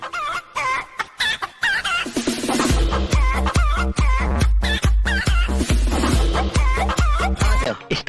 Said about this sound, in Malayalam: അത് പുറത്തെവിടെയോ ഒരു കോഴി കറങ്ങി നടക്കണ കണ്ട്.